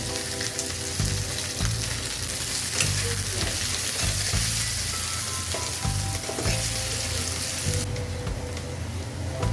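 Loud, continuous sizzling of tengra fish frying in oil close up, with scraping stirring sounds throughout and no voices.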